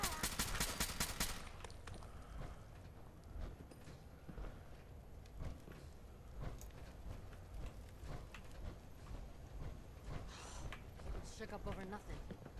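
Rapid bursts of gunfire in the video game Fallout 4 crackle at the start, then scattered shots and clatter continue under a constant low rumble as people talk.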